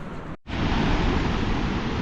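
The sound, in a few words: Ganga river flowing through Himalayan valley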